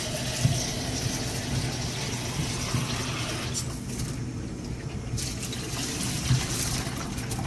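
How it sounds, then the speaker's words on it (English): Tumbled unakite rocks rinsed under running water after polishing, a steady close splashing and trickling rush that continues throughout with slight shifts in tone. "we're just gonna rinse this out real good, and we're gonna put it back in the barrel"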